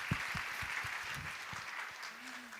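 Applause from the audience at a women's investment summit, a faint, steady wash of clapping heard from a distance, with a few low thumps beneath it.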